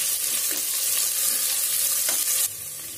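Onions and green chilies sautéing in a pan, a steady close sizzle with faint stirring scrapes, the sound dropping slightly near the end.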